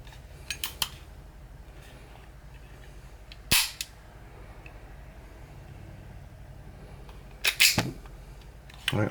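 Sharp metallic clacks from the slide and ejection port of a KWC Makarov PM CO2 blowback BB pistol: a few faint clicks, then one loud snap near the middle and a double clack near the end, over quiet background.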